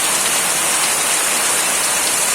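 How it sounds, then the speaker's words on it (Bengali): Rain falls steadily and loudly, a dense continuous hiss of drops hitting surfaces with no voices over it. "বৃষ্টি হচ্ছে এখন"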